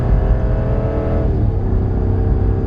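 A truck with a single exhaust accelerates hard, its engine note loud and steady, then dropping sharply as the automatic transmission makes a crisp shift partway through and the revs climb again.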